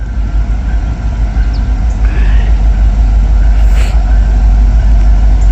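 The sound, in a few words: Norfolk Southern freight train passing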